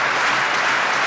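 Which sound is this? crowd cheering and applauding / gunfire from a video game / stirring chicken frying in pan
crowd cheering and applauding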